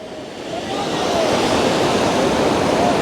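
Surf rolls in at Bronte Beach in Sydney on a hot day, a continuous, fairly loud wash of breaking waves and foam that swells slightly and then holds steady.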